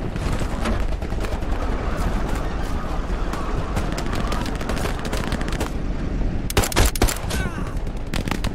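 Gunfire in Hell Let Loose rattles steadily in dense bursts near a tank, with a louder cluster of close shots toward the end; occasional voices sit beneath the shooting.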